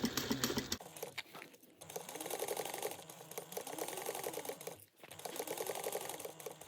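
A sewing machine back stitching a gusset seam on a bag, its needle running in a dense, steady mechanical chatter that surges in long bursts, dips briefly, then picks up again, close and loud with no talking.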